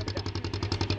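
A boat engine on a brick-carrying boat chugs in a fast, even rhythm of regular pulses, close and moderately loud, with no talk.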